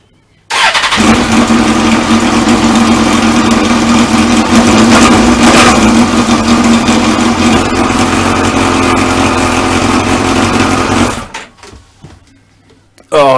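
A Suzuki GSX-R 1000 motorcycle, back on the road after time off, cranks and fires up, then idles loudly and close for about ten seconds before the engine cuts and falls quiet.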